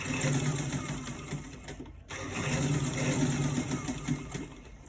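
A straight sewing machine stitches a buttonhole with a steady, close mechanical whir and rhythmic needle chatter, pausing briefly around the middle before running again at the same pace.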